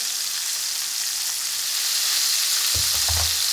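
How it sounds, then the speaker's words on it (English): Crispy rice patty frying in butter in a cast iron pan, giving a steady, close, bright sizzle throughout, with a few soft low knocks near the end. "Let's get my crispy rice patty going. A little butter there."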